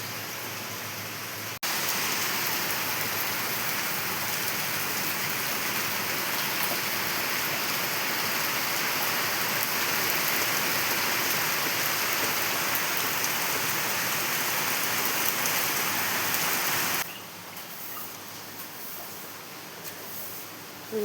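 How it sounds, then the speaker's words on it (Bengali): Heavy rain falling outside, a dense, steady roar of downpour that stays loud and even for most of the stretch before dropping a little near the end, no one speaking. "আর প্রচণ্ড জোরে বৃষ্টি আসছে।"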